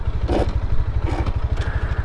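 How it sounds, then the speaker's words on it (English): Motorcycle engine thumping in a fast, even low pulse under compression braking while rolling down a bumpy hill, with rattles and clatter from the ride rising over the steady beat. "We're gonna use some engine compression to help keep us going slow."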